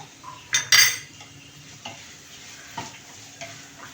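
A pickle mixture with asafoetida and spices is stirred in a pan, giving a soft sizzle with a few sharp clinks of a metal spoon early on, then quieter scrapes, close and fairly faint.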